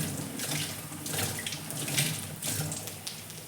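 Tap water runs steadily into a sink as fresh mint and coriander are rinsed under it. A close, continuous splashing stream with slight surges as the herbs are moved about, and no talking.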